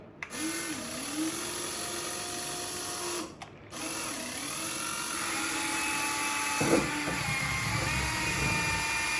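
Electric motors of a Huina all-metal RC excavator whine steadily as its bucket lifts, a continuous high-pitched gear drone with brief pauses and a louder mechanical strain near the end.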